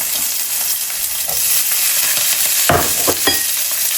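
Fennel seeds, cumin and green chillies sizzling in hot oil, a bright steady hiss that turns busier with a few sharp spatters and stirring clatters near the end.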